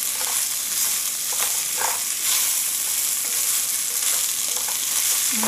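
Roasted corn for a smoked salmon chowder sizzles steadily in a hot pan while a utensil stirs and scrapes it around, a continuous close frying hiss with occasional soft knocks, no talking.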